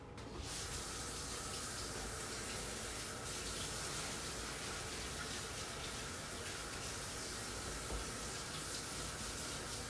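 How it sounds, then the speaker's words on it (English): Kitchen tap runs steadily while hands are washed during home meal prep, an unbroken close hiss of flowing water with light splashing for the full length, no talking. "Gonna wash my hands."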